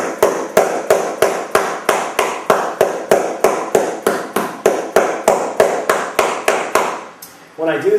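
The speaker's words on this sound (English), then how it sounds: "So I'm going to use this 28-ounce dead blow hammer to tap" A 28-ounce dead blow hammer taps down the raised edge of floor tiles in a series of about nineteen evenly spaced, sharp, loud blows, close by, followed by a brief rustle at the end.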